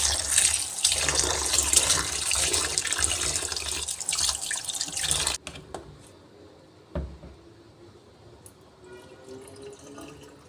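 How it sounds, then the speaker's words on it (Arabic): Rice is washed in a sink under a running kitchen tap: a loud, steady gush of water for about five seconds, then the flow stops, leaving faint drips and small clinks. "المفروض بقى ان انا كده ايه بغسل الرز."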